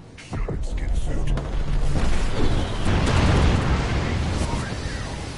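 A grenade blast in the Apex Legends battle royale game: a loud, sustained boom that fills several seconds with rumbling debris and layered game effects, while a player talks over it.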